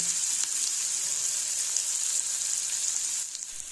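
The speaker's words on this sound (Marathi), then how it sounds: "मग घालायचे त्याच्यामध्ये 2 मोठे कांदे, हे ब्राऊन होऊ द्यायचे नाहीये" Two large onions fry in a pan for Mumbai street-style masala pav, giving a steady, bright, hissing sizzle that holds evenly throughout and softens slightly at the very end.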